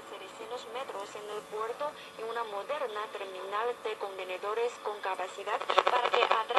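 A homemade radio receiver with a homemade variable capacitor picks up a telephone signal: warbling, wavering voice-like tones and crackle come through for several seconds, growing busier and noisier toward the end.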